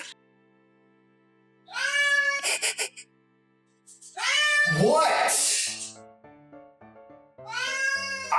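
A house cat meows repeatedly in long, drawn-out, talkative calls, loud and close, with three separate bursts spread across the moment and a person speaking briefly in between.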